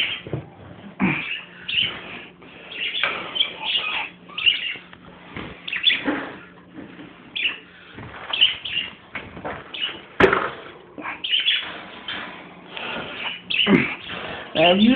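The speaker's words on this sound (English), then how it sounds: "Now, if you do what I'm telling you to do, you see all my parakeets I have." Pet parakeets in a cage chirping and chattering in busy, close, overlapping bursts, with someone talking over the birds throughout.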